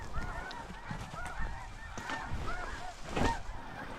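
A flock of blue snow geese honks repeatedly, a busy overlapping chorus of calls carried on wind during a North Dakota blizzard hunt, moderately close.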